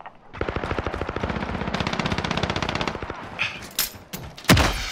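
Rapid automatic gunfire in Call of Duty: Modern Warfare, a long burst of closely spaced shots followed by a few louder separate blasts, loud and close with no talk.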